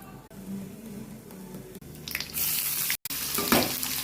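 Bay leaf and spices such as mustard seeds and cumin hitting hot oil for tempering, heard as a quiet low hum that bursts into a bright, loud sizzle halfway through and keeps crackling to the end.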